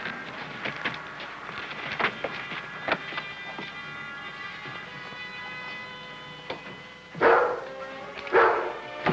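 A dog named Rebel barking indoors, a few sharp barks spread out, the loudest two near the end, over an old film soundtrack with a sustained musical tone underneath.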